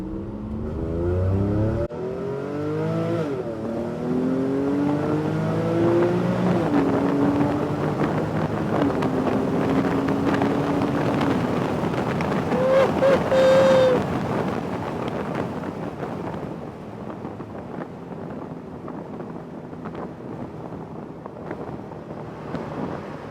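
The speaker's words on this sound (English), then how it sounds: "Oh, did you hear the backfire?" Porsche 911 running on flex fuel accelerates hard from a roll up an interstate on-ramp, engine note rising through several gear shifts under heavy wind noise, with a sharp backfire pop near the middle, loud and close throughout.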